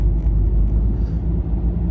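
Steady low rumble inside a moving car with the air conditioning blowing, a continuous broadband hum that stays level and close throughout with no talking.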